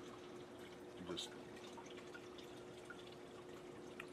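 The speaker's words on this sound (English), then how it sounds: "First thing I'm going to do is just water these guys one last time." Water is poured over basil seedlings set in rock wool cubes in a hydroponic tray, giving a soft, steady dripping and trickling close by with a hum underneath and a brief word spoken.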